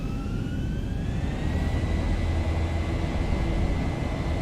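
Boeing 737-800 jet engines at takeoff power in the X-Plane 11 flight simulator give a steady broadband roar with a thin rising whine, heard from inside the cockpit at moderate level without talk.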